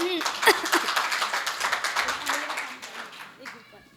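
Audience clapping at a Hindi kavi sammelan poetry gathering in Maujpur, a burst of rapid hand claps that thins out and fades, with a voice speaking over it.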